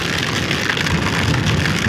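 Heavy typhoon rain pours steadily at a campsite in the Philippines, a dense, continuous hiss of drops drumming on surfaces nearby, with no voices.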